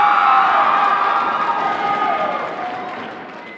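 Loud cheering and applause from a high school holiday assembly crowd for a Christmas sweater contestant, a dense continuous roar with whoops that fades slightly toward the end.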